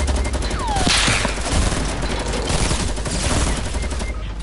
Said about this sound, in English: He's spamming with an LMG.